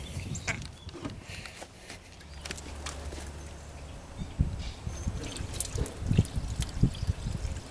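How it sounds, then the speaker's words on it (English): Water poured into the radiator of an old tractor puller trickles and splashes in uneven, fairly quiet bursts, close by, with no talking. "So I put a little water in the radiator."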